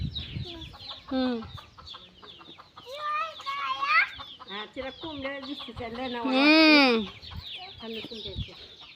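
Hens cluck and squawk nearby in a rural yard, with bursts of rising, strained calls among softer clucks. Voices chatter in the background.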